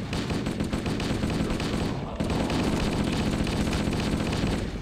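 Rapid battery rifle fire from a Halo game keeps up a loud, dense, continuous rattle with a brief break midway before the shooting resumes.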